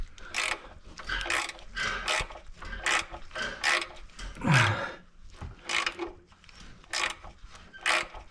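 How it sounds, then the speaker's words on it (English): A small 10mm ratchet wrench works a bolt on the timing cover of a Ford Flex, giving repeated short bursts of close, crisp clicking in an uneven rhythm with brief pauses between strokes. "Isn't it fun dealing with these little 10mm wrenches?"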